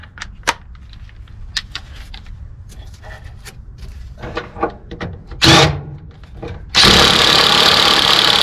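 A power tool tightens bolts on an RV rear track bar during a Roadmaster bushing kit install, with scattered clicks and clanks of parts, a short burst of whirring, then a loud sustained run of the tool to the end.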